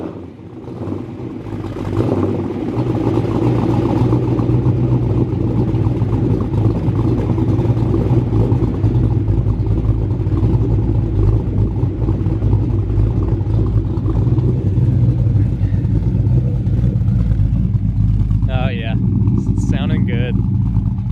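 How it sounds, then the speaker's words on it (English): A carbureted Ford Mustang SN95 engine starts cold: a loud, close idle settles into a steady low rumble that runs for the whole stretch, and someone talks over it near the end. "Almost forgot, got to get a cold start."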